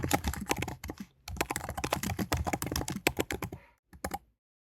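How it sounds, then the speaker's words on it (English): Rapid typing on a computer keyboard, a close, clear flurry of key clicks with a short pause midway and a few final taps before silence. "Click in the text box and type in the topic to be summarized."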